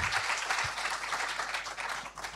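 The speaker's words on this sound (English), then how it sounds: "round of applause" An audience at a talk gives a brief round of dense, steady applause, moderately loud and alone, tapering slightly at the end.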